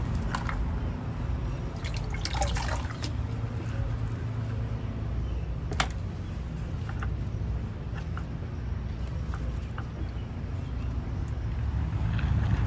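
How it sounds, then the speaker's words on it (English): Water trickling and splashing steadily onto the soil around a newly planted rose in a garden, with scattered drips over a constant outdoor wash of noise, fairly close and without any voices. "So I'm adding a little bit more water."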